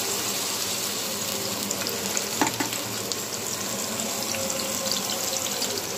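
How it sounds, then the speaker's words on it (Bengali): Onion paste hits a pan of hot oil and browned onions for a duck egg curry, giving a steady, loud sizzle and hiss that goes on without a break. "এখন আমি দিয়ে দিব পেঁয়াজ বাটা।"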